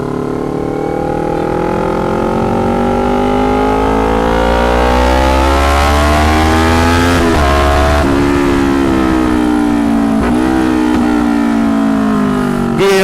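A 2019 Kawasaki Ninja 250 with an aftermarket custom exhaust revs hard and close, its loud engine note climbing steadily, then dropping in sharp dips and pops before building again.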